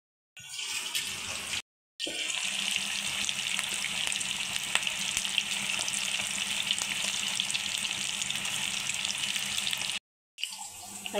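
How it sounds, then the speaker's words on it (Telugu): Chicken pakoda pieces deep-frying in oil, a dense steady bubbling sizzle that cuts out briefly twice and returns, close and even, with no voices. "చక్కగా ఫ్రై అవుతూ ఉంటాయి ఆయిల్లో."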